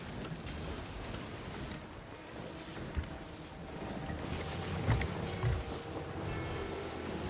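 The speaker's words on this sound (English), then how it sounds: "That is the sound of a skeleton ship sinking." A skeleton ship sinks in the Sea of Thieves video game: a steady wash of rain and rushing water with a few dull low thuds scattered through, all fairly quiet.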